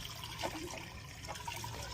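Pool filter pump running in backwash mode, pushing a steady rush of water that gurgles and flows continuously at moderate level, with no talk.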